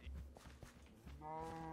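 A cow in the video game Minecraft moos in low drawn-out calls, ending with a longer, brighter moo, with soft footsteps and faint background noise between.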